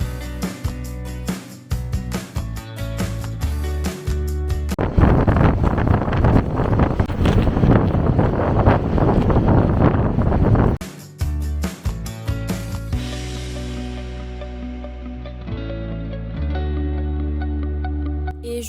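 Strong wind buffets the microphone beside waterfalls in Iceland, a loud rushing roar swelling through the middle and easing off again, with gusts ebbing unevenly and no voices.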